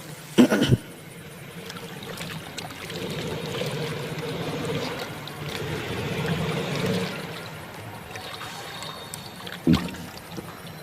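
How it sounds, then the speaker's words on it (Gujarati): Water sloshing and pouring steadily as potatoes are rinsed in a basin, with a couple of sharper splashes near the start and end. "સૌથી પહેલાં આપણે મિત્રો બટેટાને ધોઈ નાખશું પાણીમાં નાખીને"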